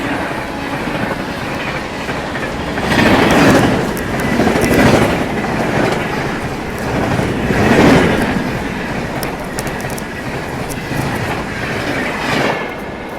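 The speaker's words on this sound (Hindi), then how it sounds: "तो पुरुषोत्तम एक्सप्रेस अभी निकली है भाई।" Purushottam Express rushes past close by during an overtake, a loud steady rumble of rolling coaches with rhythmic clickety-clack wheel beats that swell and fade several times across the pass.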